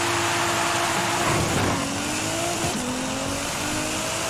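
A race car driving in a street racing video game, with a loud, continuous engine roar and tire noise, pitch sliding as it shifts gears, steady throughout with no talking.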